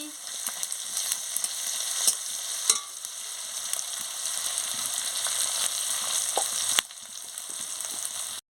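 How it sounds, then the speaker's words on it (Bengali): Spice paste with ginger and garlic paste frying in a pan for prawn malai curry, a steady close sizzle with occasional stirring scrapes and clicks, no voices. "দিয়ে মশলাটাকে ভালো করে ভেজে নিচ্ছি।"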